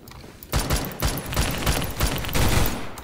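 A DMR rifle in the Phantom Forces video game fires a rapid string of loud, close shots, each crack running into the next with no pause.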